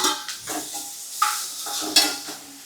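Onions sautéing in a pan for crab gravy, stirred with a spoon: a soft, steady sizzle broken by a few sharp scraping strokes against the metal, close up with no talking.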